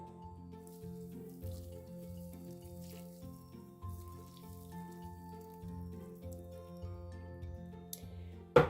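Boiling water pours over elderflowers for syrup, a soft continuous trickle and splash at low level, ending with a short clink at the close.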